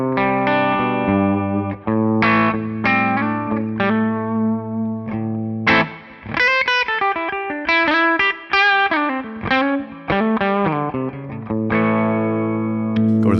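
A Gibson SG electric guitar on its bridge pickup plays through a Tonex amp modeler, strummed chords and picked single-note runs ringing out with sustain, loud and alone.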